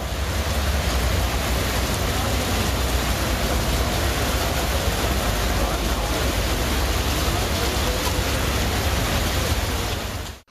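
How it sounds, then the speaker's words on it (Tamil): Heavy rain pours down in Hosur as a loud, dense, unbroken hiss of falling water that holds steady for the full length before cutting off abruptly. "ஹொசூர் மற்றும் அதன் சுற்றுவட்டார பகுதிகளில் 2 மணி நேரத்திற்கு மேலாக கனமழை வெளுத்து வாங்கியது"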